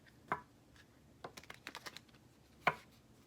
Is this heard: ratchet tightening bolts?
no